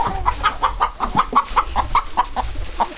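Chickens clucking close by, a steady run of about a dozen short, evenly spaced clucks over a low background rumble, heard during a livestock guardian puppy's introduction to the birds.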